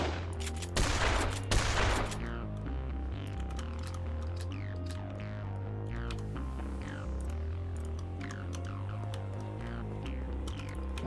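Gunfire in a video game, a rapid burst of automatic shots near the start, then scattered lighter clicks and effects over a steady droning game soundtrack.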